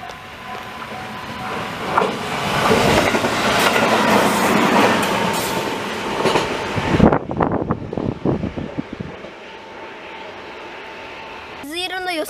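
A train rumbles past loudly and close over a level crossing at JR Tsushimanomiya Station in Kagawa, Japan, wheels clattering over the rails before the noise drops away. Voices are heard, and a bell chimes at the end.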